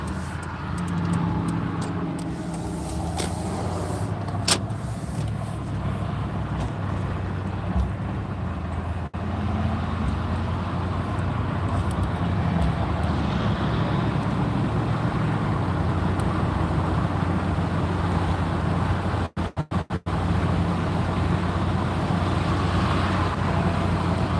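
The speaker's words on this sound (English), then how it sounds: "Of course, there's a vehicle behind me." Car driving behind the speaker on a town road, a steady loud rumble of engine and road noise lasting throughout, rising slightly toward the end with brief dropouts near the twentieth second.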